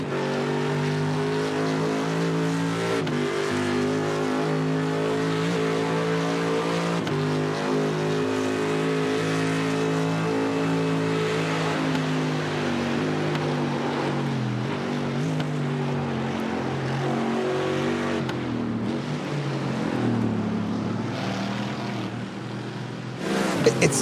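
Race car engines in the DNLS sim racing game roar steadily in an onboard view, their pitch climbing and dropping through gear changes and corners, continuous and loud with no talking.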